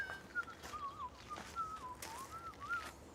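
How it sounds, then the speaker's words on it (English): A person whistles a soft, wavering tune nearby, the melody gliding up and down in short phrases over faint background noise. "I heard the whistling."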